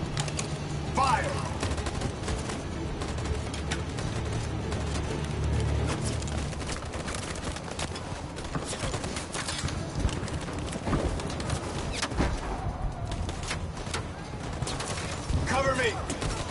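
Gunfire from troops in the video game Detroit: Become Human, scattered sharp shots and bursts layered over a steady low rumble of battle ambience, with voices shouting over it throughout.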